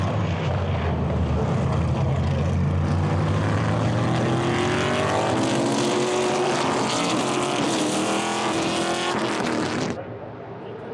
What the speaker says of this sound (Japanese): レースを走る車はストックカーと呼ばれ